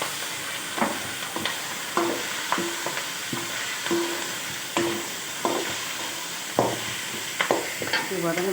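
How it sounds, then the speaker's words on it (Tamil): Drumstick leaves sauté in a hot pan with a steady close sizzle, broken by repeated scraping, stirring strokes of a spoon at a loose rhythm. "வதங்குது பாருங்க, சொல்லுது."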